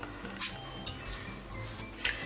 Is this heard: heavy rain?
no